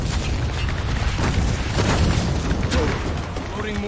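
Mortar shells bursting in Spec Ops: The Line, a dense, continuous rumble of booms and blasts layered with battlefield noise, loud and close throughout.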